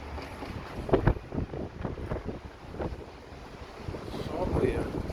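Strong northwest wind gusting over 50 km/h along the coast at Caraguatatuba, roaring as steady broadband wind noise buffeting the microphone, with brief louder gusts and faint voices in the background.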